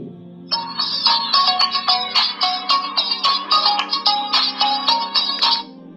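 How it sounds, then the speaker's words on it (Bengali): Walton Axion x300 smartphone ringtone at ring volume, a bright repeating electronic melody of short rhythmic tones over a faint steady hum, close and clear for about five seconds. "প্রোফাইল থেকে এখান থেকে আমরা কিন্তু রিংটনের রিং ভলিউমটা দেখে নিতে পারি"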